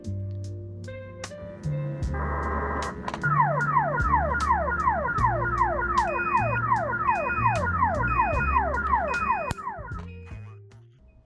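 Man overboard alarm on an RT-500-M unit, set off by a PLB beacon test: a rapid repeating electronic warble of falling sweeps, loud and steady for several seconds over low tonal beeps, then cutting off.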